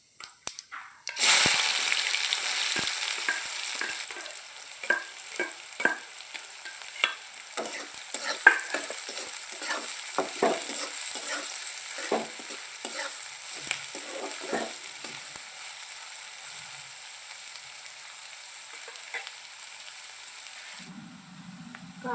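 Chopped onion frying in hot oil with mustard seeds and cumin in a pan, a steady sizzle broken by repeated stirring scrapes and small pops, close and fairly loud, stopping abruptly near the end.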